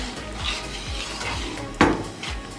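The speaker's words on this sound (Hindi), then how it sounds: "चम्मच आपने इसमें मुसलसल हिलाते रहना, स्लो फ्लेम पर इसे पकाना।" Plum chutney thickening with sugar in a pot over a slow flame, stirred with a spoon: soft rhythmic scraping sweeps close by, broken once by a sharper metallic clink.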